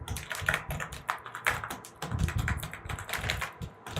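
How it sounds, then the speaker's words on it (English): Rapid typing on a Zebronics Transformer gaming keyboard with RGB lighting, a close, continuous patter of clacky key presses in uneven bursts with no talk. "Okay, I'm typing, so I will type something."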